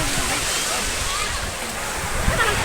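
Sea water sloshing and splashing at Saidia beach in Morocco, a steady broadband wash of surf with no clear breaks, close and fairly loud, with faint voices of beachgoers mixed in.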